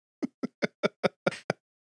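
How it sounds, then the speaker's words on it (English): Seven quick, crisp knocks in an even rhythm, close and dry, like knuckles rapping on a hard surface, with silence afterward. "Knock someone over the head three times"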